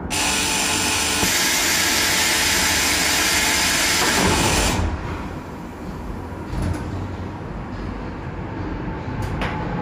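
A Budapest M1 metro train pulls away toward Vörösmarty tér, its doors sliding shut as a loud, broad rush of rail and motor noise holds for several seconds, then drops to a quieter, steadier rumble with a few faint clanks.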